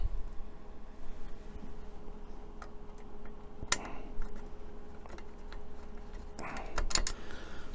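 Small Allen screws being driven into a metal part of a Titanic model kit: a few sharp clicks and light metallic ticks, with a cluster of quick taps near the end, close by over quiet room noise.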